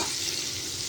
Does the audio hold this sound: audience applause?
no